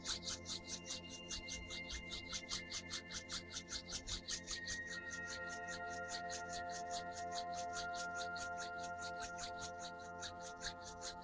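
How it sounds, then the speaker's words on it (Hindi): Palms rubbed briskly together during a yoga practice make a steady rhythmic swishing friction, many quick even strokes close up over a continuous low background hum, with no speech. "दोनों हाथों को रब करने की कोशिश कीजिए"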